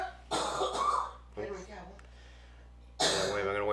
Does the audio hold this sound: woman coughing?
yes